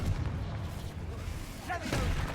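A Confringo blasting spell in Hogwarts Legacy goes off as a short, muffled boom, with a sharper crackling burst near the end, heard over low game ambience.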